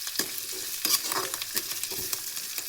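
Onions fry in a pan for a tomato saaru made with anganwadi sambar powder, giving a close sizzle broken by quick scraping stirs and light utensil knocks in an uneven rhythm.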